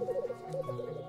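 Male black grouse giving its bubbling rukuing mating call, a continuous low warbling coo that rises and falls in steady pulses, fairly close and alone without voices.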